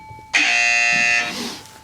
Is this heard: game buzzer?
yes